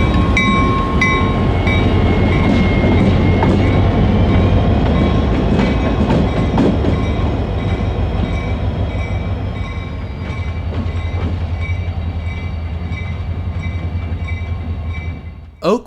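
A Norfolk Southern SD40-2 locomotive, number 6152, rolls past at a Detroit rail junction with a loud, steady rumble of engine and wheels, rhythmic clickety-clack over the rails and thin squeals of steel, sustained for the whole stretch.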